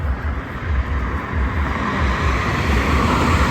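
Cars speed along the Samruddhi highway in a steady, loud, broadband rush of road and wind noise with no clear gaps between vehicles, and nobody speaks.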